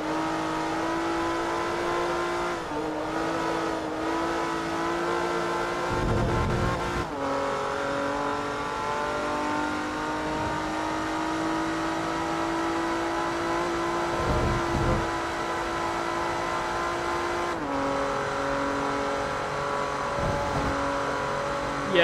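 Race car engine in Forza Motorsport 3 on the Road America circuit, running with slight engine trouble: a sustained, loud in-car drone that rises in pitch through the gears and dips at each upshift, with occasional tire noise, and no talking.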